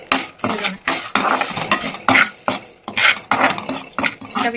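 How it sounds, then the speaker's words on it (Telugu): Asafoetida fries in a pan while a spoon stirs it in quick, repeated metallic scraping strokes, close and fairly loud, with a rhythmic clatter and little sizzle beneath. "ఇంగువ కాస్త ఫ్రై చేసుకోవాలి."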